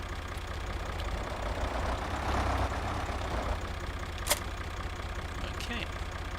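A 55-horsepower tractor engine idles in Farming Simulator 2013, a steady low rumble that runs evenly throughout, with faint voices in the background.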